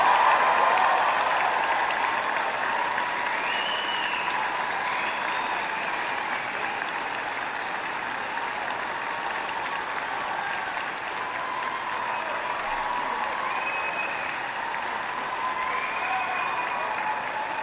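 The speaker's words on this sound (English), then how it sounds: "I ask your friends and family to join me in applauding the amazing graduating class of June" Large audience at a university spring convocation applauds the graduating class, sustained loud clapping filling the hall for the whole stretch at a steady level.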